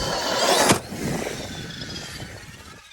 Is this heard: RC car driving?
yes